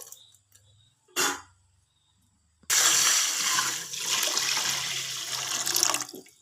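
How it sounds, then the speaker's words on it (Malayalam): Second coconut milk pours into roasted vermicelli in a pan, a steady splashing liquid rush lasting several seconds after a brief earlier splash, close and fairly loud. "ഇനി നമുക്കിതിലേക്ക് 2ാം പാല് ഒഴിച്ചു കൊടുക്കാം."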